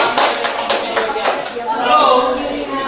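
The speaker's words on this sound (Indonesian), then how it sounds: "Tepuk tangan buat kelompok 2" A classroom of students gives a short burst of scattered clapping for a presenting group. The claps are close and uneven, and talking mixes in and carries on after them.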